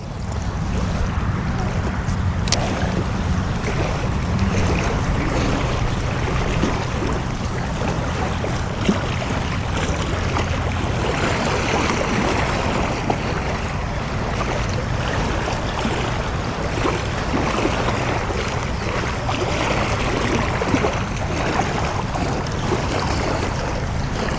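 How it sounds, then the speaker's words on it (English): Wind gusts hard across open water during kayak fishing for blue catfish, a loud continuous roar of buffeting mixed with lapping water, steady for over twenty seconds and with no talk. "it is pretty windy out here"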